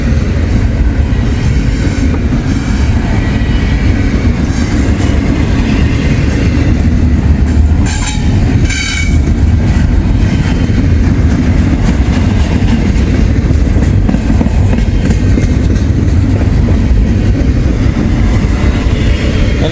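A freight train hauling brand-new intermodal containers rolls past close by, its loud steady rumble and rail clatter filling the whole stretch with a brief wheel squeal partway through.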